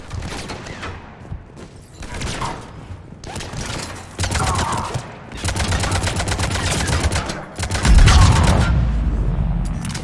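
Troopers firing weapons in the video game Mass Effect, rapid sustained bursts of automatic gunfire with heavy booming shots, loud and dense, intermittent pauses between volleys.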